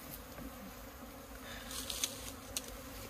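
Honeybees around a hive buzzing faintly and continuously, with a few brief louder passes close by near the end, no talk.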